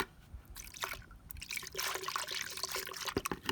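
Liquid drips and trickles into lukewarm water as iodine is added, a soft, close pouring sound with small splashes and gurgles, faint and without talk.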